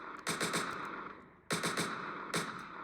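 Rapid automatic gunfire from the video game Entry Point comes in three short bursts of quick shots, loud and close, with brief gaps between them.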